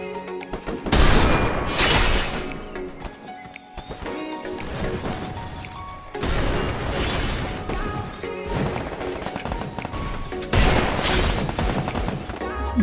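Desert Eagle pistol shots in the mobile battle game Free Fire: loud, sharp reports in several dense clusters separated by short pauses, with crashing impact sounds mixed in and no talking.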